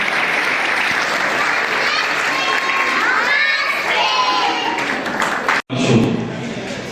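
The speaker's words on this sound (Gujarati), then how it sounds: "બાળકોને તાળીઓના ગડગડાટથી વધાવશું આપણે." Audience applauding children at a protest gathering in Junagadh, a loud, dense burst of clapping with cheers and shouts, sustained for several seconds before stopping abruptly and resuming briefly.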